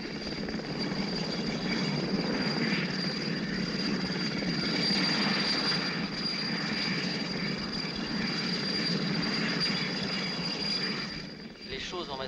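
A helicopter flies over a factory, a loud, steady engine and rotor drone that holds nearly constant before easing slightly at the end.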